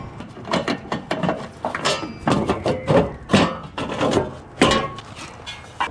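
Screws going back into the cover of an electrical panel during a 240v EV charger outlet install, a string of sharp metallic clicks and scrapes in an irregular rhythm, close by and without talk.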